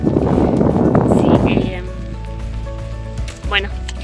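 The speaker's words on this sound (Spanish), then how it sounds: "se largó fuerte la llovizna" Heavy drizzle falls outdoors, a loud, dense, steady hiss for about a second and a half before it drops to a quieter patter, with faint voices in the background.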